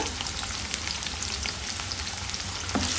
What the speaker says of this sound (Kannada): ಈರುಳ್ಳಿ ಚೆನ್ನಾಗಿ ಫ್ರೈ ಮಾಡ್ಕೊಳ್ಬೇಕು